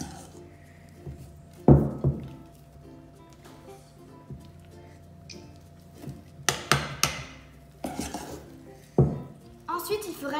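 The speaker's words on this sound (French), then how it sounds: "mélanger les blancs avec les jaunes" A utensil beats egg whites together with yolks in a bowl, giving irregular clattering knocks and scrapes against the bowl, close and moderately loud, with quiet pauses in between.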